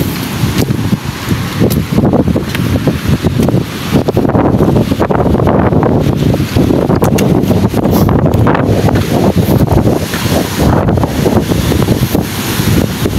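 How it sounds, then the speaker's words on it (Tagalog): Strong wind buffets the microphone in an open outdoor spot near a river, a loud, continuous roaring rumble with gusty surges that lasts the whole stretch, with no other clear sounds. "Grabing hangin."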